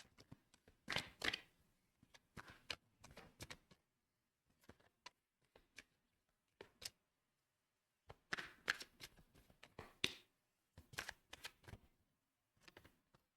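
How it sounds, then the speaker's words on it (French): Oracle cards shuffled close by in soft, papery bursts of riffling and tapping, separated by brief quiet pauses, with no talking. "je vais prendre 2-3 cartes avec cet oracle"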